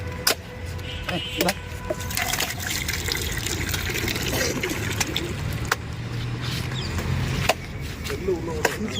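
Tender coconut water poured out at a roadside coconut stall, a continuous splashing trickle with occasional sharp knocks and passing traffic in the background.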